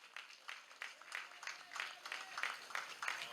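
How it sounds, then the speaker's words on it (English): At a Tobago primary schools 3K road race finals, an outdoor crowd gives the student runners a round of applause: faint, thin clapping with separate claps audible, at a distance and fairly quiet. "I want you to put a special round of applause together for them."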